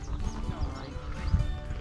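An agitated horse being held and settled by handlers during a capture preparation, whinnying close by with scuffling hoof clops on the ground, under loud, busy people talking.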